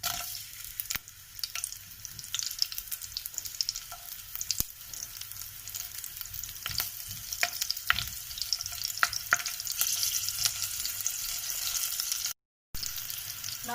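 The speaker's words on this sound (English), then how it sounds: "Now chili is fried well." Green chili frying in oil in a pan while making Maharashtrian besan kadhi, a continuous close sizzle with sharp crackles and pops scattered through it and a brief dropout near the end.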